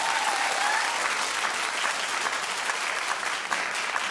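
Steady, full applause from a talk show studio audience, a dense wash of many hands clapping loudly throughout, with a faint voice briefly rising over it at the start.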